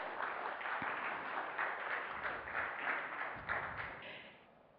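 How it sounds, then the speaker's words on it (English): An audience at an evening cultural and award ceremony applauds steadily, with dense clapping from many hands sustained for several seconds before it begins to fade at the end. "So please give him a big round of applause for that."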